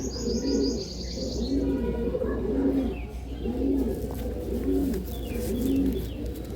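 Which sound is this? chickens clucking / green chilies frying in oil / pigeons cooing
pigeons cooing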